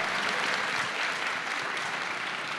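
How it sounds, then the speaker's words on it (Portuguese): Audience at an education summit in Rio applauds steadily, a dense even patter of many hands clapping at moderate distance, sustained without pause. "Uma salva de palmas."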